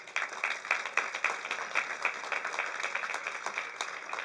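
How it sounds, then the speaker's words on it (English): Audience applause at a veterans ceremony, a steady round of many hands clapping at moderate distance with no talk over it. "can we have one more good round of applause for each of these veterans"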